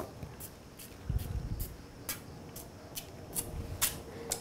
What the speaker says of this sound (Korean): 스프레이에 오일을 담아서 이렇게 쫙 한번 해주시면 기름을 상당히 적게 사용하고도 두부를 구우실 수가 있어요